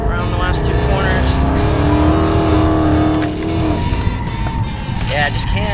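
A Dodge Charger SRT Hellcat cornering hard on a race track, its engine roaring close by with tires squealing through the turn while someone talks over it.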